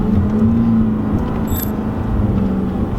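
Genesis V8 with its exhaust cutouts closed rumbles loud and close, a dense low engine note with a slight rise and fall as it drops down to first gear.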